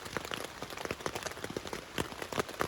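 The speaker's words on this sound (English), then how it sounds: "The rain came." Rain falling on a tent's rain fly during a bike tour camp near Lake Erie, a faint, irregular patter of separate drops tapping the fabric at close range, with no talking.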